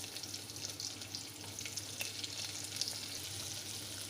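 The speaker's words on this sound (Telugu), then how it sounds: "ఉల్లిపాయలు మంచిగా మగ్గి ఎర్రగా రంగు మారేంత వరకు వేపుకోవాలి" Onion and green chili pieces fry in a pan for egg pulao, a faint, even hiss of sizzling oil running unbroken throughout with a few tiny crackles.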